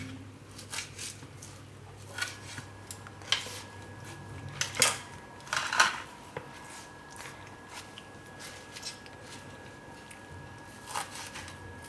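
A knife chops chil bhaji leaves on a kitchen board. Scattered sharp cuts and taps come at uneven intervals against a quiet room background.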